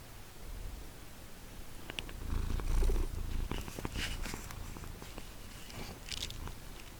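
A house cat purrs right up against the microphone, a steady low rumble with close rustling and snuffling bursts around the middle, alone without talk.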